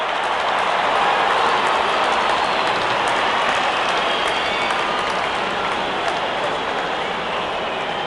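Dense, steady crowd noise at a cricket match, sustained cheering and applause rolling on without a break, broad and wash-like throughout with no voices standing out.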